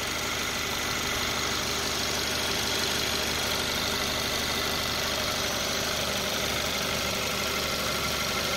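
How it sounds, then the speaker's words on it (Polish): A Kia Ceed 1.6 engine idles in a steady, even drone, heard up close with the bonnet open during a car inspection in Germany. It runs without a break throughout. "Silnik pracuje równo."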